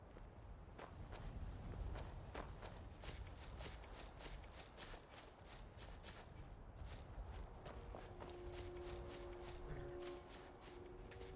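Hooves of a horse in the video game Skyrim walk in a steady irregular clip-clop, soft and fairly close, with game ambience and a few faint clicks underneath.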